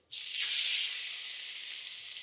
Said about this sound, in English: Bit of oil. Yep, that's hot. Cook the steak.